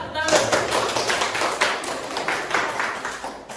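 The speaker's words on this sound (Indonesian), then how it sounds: "tepuk tangan dulu untuk Pak" A small group claps in a brisk, uneven patter that fills the room, steady throughout without any voices over it.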